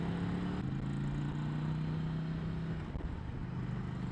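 A Ducati Scrambler 800 Icon motorcycle engine drones steadily as it cruises along the road, a constant low hum with little change in pitch.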